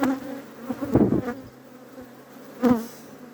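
Agitated bees buzz close around an open hive in spring, with a droning hum that swells in two louder passes as individual bees fly near.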